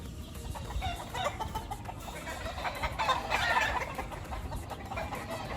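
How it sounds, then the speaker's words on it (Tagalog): Chickens cluck and roosters crow close by in a spacious gamefowl farm coop, a busy overlapping chorus of fowl with one louder call in the middle. "Ang ganda, ang luwang nung manukan ni Papa Loisel dito."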